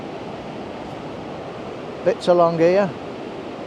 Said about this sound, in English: that's the Horseshoe Falls